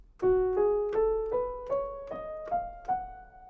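A plucked instrument plays a rising Dorian scale, eight clear notes in even succession, each ringing briefly before the next.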